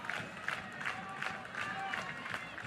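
Crowd noise at a college softball game, Tennessee against Missouri, rises and falls in rhythmic bursts like clapping or chanting, moderately distant and fairly faint, with a commentator's voice faintly under it.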